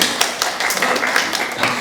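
Light, scattered clapping from an audience at a policy forum, a few brief slaps spread across a short moment rather than a full round of applause.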